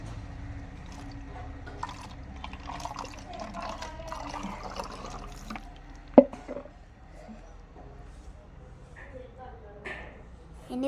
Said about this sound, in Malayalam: നമുക്ക് ഇത്തിരി വെള്ളം ഒഴിച്ചെടുക്കാം കേട്ടോ